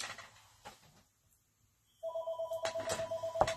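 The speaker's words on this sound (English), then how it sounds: "it's the base of the phone that rings, not the cordless handset" A landline telephone base station rings, not the cordless handset, in an office-turned-room: a steady electronic trill starts after a quiet pause and keeps repeating loudly and close, alone without talk.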